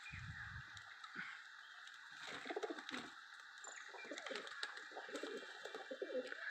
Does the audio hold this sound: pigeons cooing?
yes